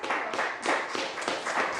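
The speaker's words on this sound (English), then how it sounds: "if you could hold your applause" Audience applause at a Local Planning Agency public meeting: a steady patter of many hands clapping across the room for the full two seconds, with brief surges of louder clapping.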